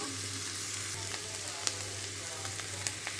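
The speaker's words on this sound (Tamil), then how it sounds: "கேபேஜ் எல்லாத்தையுமே ஆட் பண்ணிவிட்டு நல்லா வதக்கி எடுத்துக்கலாம்" Cabbage, capsicum and onion sautéing in a pan give a steady, close sizzle and fry with occasional sharp ticks and pops from the spatula stirring the vegetables, with no voices.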